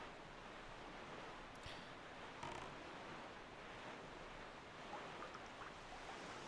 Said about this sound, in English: That water sounds good